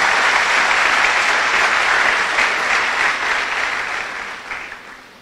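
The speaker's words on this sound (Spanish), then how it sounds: "dele un aplauso al Señor con todo su corazón" A church congregation at a Spanish-language service claps together in strong, continuous applause that fills the room and gradually thins out near the close.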